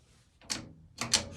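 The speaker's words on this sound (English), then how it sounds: "Open the door again." Door of a vintage Reliance hydraulic elevator in an Oak Park, Illinois building, heard as two short, close mechanical clunks and rattles about half a second apart in a quiet space.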